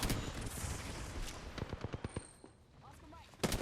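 Rapid gunfire bursts and sharp individual shots ring out during an Apex Legends match, with a player talking over the fairly faint game action.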